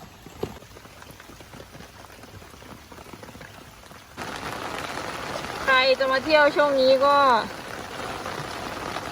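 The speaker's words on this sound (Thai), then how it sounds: "แล้วตอนนี้คือฝนตกนะคะ" Heavy rain pours at the Rayong botanical garden, heard from shelter under a bridge. A soft patter builds into a loud, dense downpour midway while someone talks over it.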